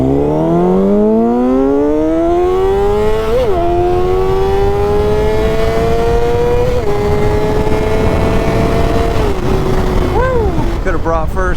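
A Honda CBR 600RR sport motorcycle pulls away hard in first gear, its engine note climbing steeply before a quick shift into second and another rising pull, loud and close, followed by a brief blip near the end.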